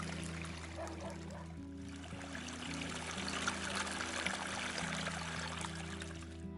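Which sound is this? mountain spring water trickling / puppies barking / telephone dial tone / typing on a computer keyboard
mountain spring water trickling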